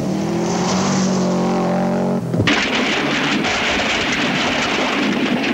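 A rally car on a Hawke's Bay gravel stage with its exhaust freshly repaired, the engine revving hard through rising gear pulls, then a sudden loud blast of gravel and wind noise as it blasts past close by.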